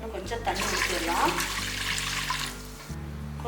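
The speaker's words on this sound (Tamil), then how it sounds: "இன்னும் கொஞ்சம் தண்ணி ஊற்றிடலாம்." Water is poured into a cooking pot while kozhukattai rice dumplings are being made, giving a steady splashing rush for about three seconds over a low kitchen hum before it stops.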